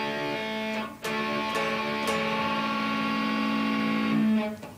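A distorted electric guitar rings out in a passage, with a few quick note changes as fingers pull off and hammer on, then the sound cuts off.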